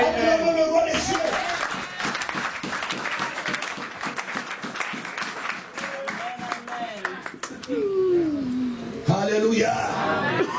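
A church congregation claps and cheers together in sustained applause, with shouts and voices rising through the crowd noise, steady and full for most of the stretch.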